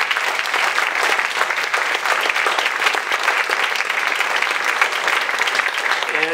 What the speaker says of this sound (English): if you would join me in recognizing and applauding them for their dedication